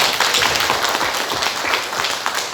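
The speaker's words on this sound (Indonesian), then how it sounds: "Tepuk tangan buat kita." Audience applause at a business training seminar, a dense, steady patter of clapping from a crowd filling the room, fairly loud and continuous without a break.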